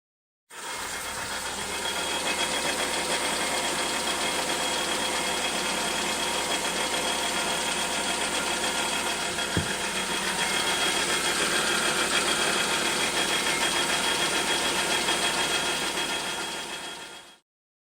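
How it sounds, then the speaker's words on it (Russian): A 2019 Hyundai Tucson engine idling at cold start with a rattling, clattering noise from under the hood, a steady close-up drone holding evenly throughout with no voices. "через 5-10 секунд появились какие-то странные звуки, доносящиеся из подкапотного пространства двигателя"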